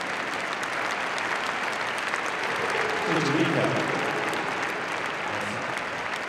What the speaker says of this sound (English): please give a warm hand of applause as our other best of the ring